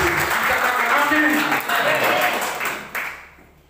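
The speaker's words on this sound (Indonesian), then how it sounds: "Tepuk tangan yang terbaik atas Tuhan kita ini" A church congregation claps together during a sermon, a full wash of applause that holds steady and then tapers off into near silence at the end.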